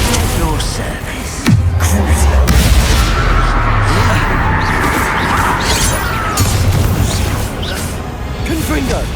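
Explosive spell blasts of Bombarda and Confringo in Hogwarts Legacy, a heavy boom near the start followed by rumbling crashes and impacts, loud and continuous over dense combat noise and music.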